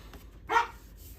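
A single short dog bark, sharp and fairly close, standing out against a quiet indoor background.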